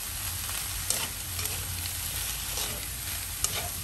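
Quinoa, steak and green beans fry together in a hot pan as a steady sizzle, with a few light clicks from a spatula stirring and tossing the mix.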